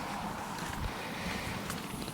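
A 1978 Hammond boat engine runs steadily nearby, giving a continuous broadband drone with wind-like outdoor noise and no speech over it.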